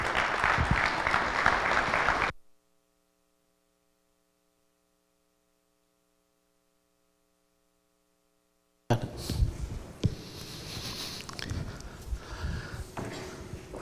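Audience applause at a livestreamed event, dense clapping for about two seconds, then a long near-silent stretch with faint hum, before the applause returns for the remaining seconds.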